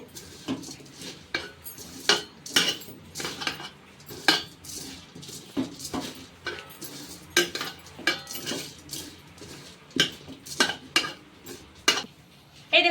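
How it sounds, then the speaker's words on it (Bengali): Khichuri being mashed and mixed by hand in a cooking pot, giving irregular bursts of squelching, scraping and utensil clinks against the pan, close by with quiet gaps between strokes. "একটু ভালো করে মাখিয়ে নেবো চটকে চটকে"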